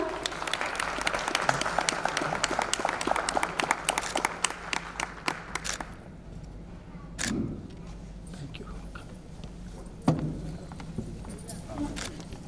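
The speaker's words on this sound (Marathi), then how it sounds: "जोरदार टाळ्याने स्वागत करावे" Applause at a national environment conference welcoming guests, with a crowd clapping strongly for several seconds before it fades into scattered claps and room noise, and a voice speaking briefly near the end.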